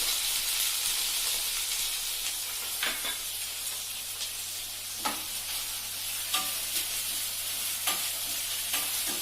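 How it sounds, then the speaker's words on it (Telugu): Onions and green chilies fry in hot oil with a steady close sizzle and hiss, broken by occasional light scraping stirs, with no voices. "ఆనియన్ అండ్ మిర్చి ఫ్రై అవ్వాలి."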